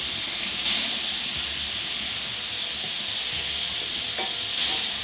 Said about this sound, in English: So as soon as tamari hits the pan,